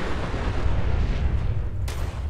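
A nuclear device explodes in a video game, a loud sustained rumbling blast with deep roaring low end and a sharp burst near the end, with no voice over it.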